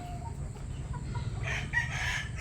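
Chickens cluck softly nearby while a rooster crows in the background, over a low farmyard rumble.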